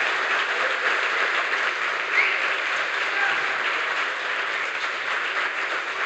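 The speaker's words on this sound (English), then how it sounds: "this applause is for you" Audience applause at a conference closing ceremony, steady sustained clapping from a crowd filling the room throughout, even and fairly loud with no pauses.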